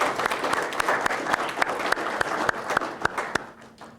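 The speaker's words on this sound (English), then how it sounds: "Please join me in a round of applause for these people and the work that they do" Audience applause at a 2014 Hall of Fame press conference, a steady wash of many hands with a few sharp nearby claps standing out, fairly loud and continuous throughout.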